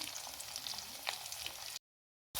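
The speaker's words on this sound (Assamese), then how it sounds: "এতিয়া মই পিঁয়াজ, আদা, নহৰু ধুনীয়াকৈ ভাজি ল'ম।" Onion, ginger and garlic fry in oil in a pan after fish has been fried, giving a steady crackling sizzle that cuts off briefly before resuming.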